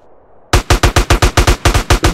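Rapid automatic gunfire from the video game MTA San Andreas: about a dozen loud, evenly spaced shots in a steady burst after a quiet start, with no talk.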